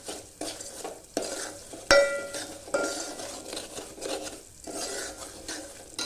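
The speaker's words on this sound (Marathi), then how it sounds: "काजू बदाम हे पण तुपामध्ये चांगलं परतून घेते" Cashews and almonds being sautéed in ghee for semolina kheer, stirred with a spoon that scrapes and clinks against the pan over a soft, steady sizzle. There is no talking.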